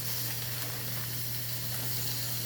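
Ground beef and pork, freshly ground from brisket, sizzle in a hot pan for a spaghetti squash Bolognese, a steady, loud frying hiss with a low hum underneath and no talking.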